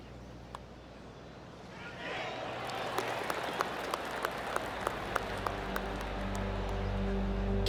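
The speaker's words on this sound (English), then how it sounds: "Oh, golf clap." A sparse golf clap from the gallery in PGA Tour 2K25 at Riviera Country Club, a few light distant claps under a soft crowd murmur after a putt, with crisp individual hand claps ticking through.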